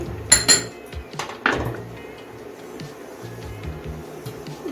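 Powdered milk is stirred into a pan for Gobindobhog rice sandesh, with a couple of bright metallic utensil clinks early on, then softer, quieter scraping. Nobody talks.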